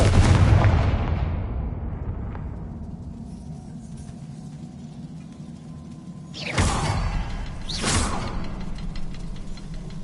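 A Confringo fire spell explodes in Hogwarts Legacy, opening with a loud burst that decays into a rumbling tail, followed later by two sharp whooshing blasts close together.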